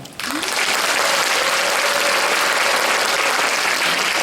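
Sustained applause from a large concert audience in South Gyeongsang, South Korea, a dense steady roar of clapping that swells in quickly and holds at full strength.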